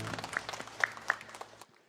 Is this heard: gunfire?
no